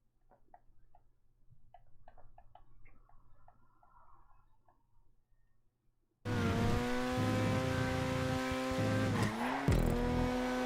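A car races around a track in GTA 5: faint scattered ticking for about six seconds, then a loud, steady engine roar with a brief pitch dip and recovery near the end.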